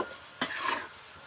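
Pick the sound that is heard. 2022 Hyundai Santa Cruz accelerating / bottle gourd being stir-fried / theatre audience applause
bottle gourd being stir-fried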